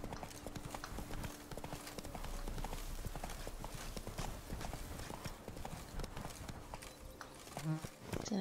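A horse's hooves clip-clop in a steady walking rhythm in The Witcher 3 video game, moderately near and soft.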